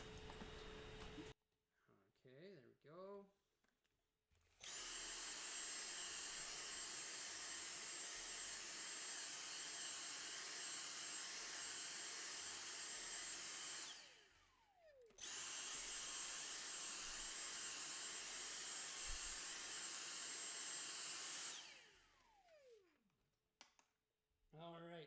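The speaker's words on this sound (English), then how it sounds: "now I'm going to vacuum these base plates, get them nice and clean and tidy." A loud vacuum cleaner runs while cleaning LEGO base plates during a Tower Bridge breakdown, a steady roaring whine in two long bursts with brief pauses between, winding down at each stop, with quiet handling noises before.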